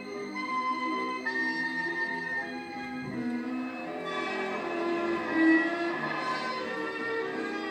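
An Italian Pendolino tilting passenger train running on the line, a steady rumbling rail sound with tonal hum and squeal overtones, fairly close and continuous, with no voices.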